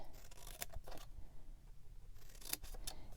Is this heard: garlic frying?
no